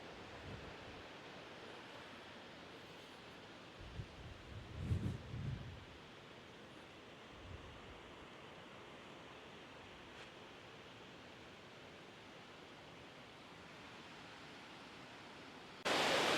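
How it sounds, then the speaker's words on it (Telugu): Constant broadband roar of water rushing out of the dam gates at Yeleru Reservoir near Yeleswaram, India, heard from some distance, with a few low thumps and no speech. "ఈ గేట్లోంచి వాటర్ వదులుతున్నారండి. వాటర్ ఎంత ఫాస్ట్గా వెళ్తుందో చూడండి. వాటర్ సౌండ్ వినిపిస్తుందండి."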